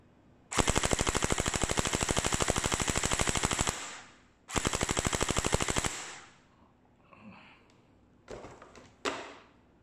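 Si Jun M4 gel blaster firing on full automatic: two long, rapid bursts of evenly spaced shots, loud and close, followed by a few faint clicks and brief handling knocks.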